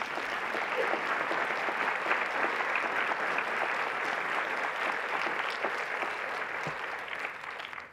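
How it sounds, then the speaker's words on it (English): An audience at an award luncheon applauds steadily for the full stretch, a dense, even patter of many hands that fades slightly at the end. "let's give them a round of applause and welcome them"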